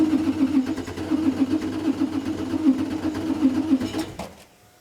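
A V8-swapped Mini engine cranks steadily with a rapid, even mechanical churn, loud and close, that cuts off abruptly near the end without catching.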